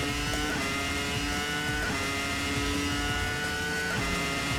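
A high-pitched Formula One racing car engine in a video game at Suzuka whines steadily, with pitch dropping and rising again as it shifts through gears, loud and continuous.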